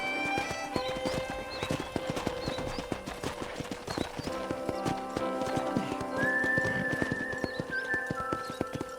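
Rhythmic clip-clop of horse hooves at a walk on a ranch in Red Dead Redemption, close and steady, with a brief whinny and a whistle-like tone partway through.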